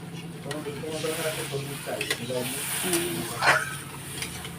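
Water poured into a hot pan of frying chicken curry, producing a brief hissing sizzle burst near the end while someone talks over the cooking.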